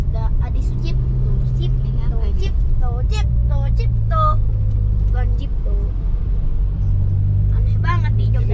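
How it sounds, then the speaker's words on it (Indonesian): A Trans Jogja city bus in Yogyakarta street traffic rumbles steadily up close, a deep engine drone with passing vehicle noise, while people talk over it throughout. "Ini bus Trans Jogja, teman-teman."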